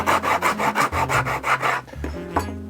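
A rasp scrapes hard across a leather shoe sole during bespoke shoemaking, about a dozen loud, even back-and-forth rubbing strokes close up, then a brief pause and a last few strokes.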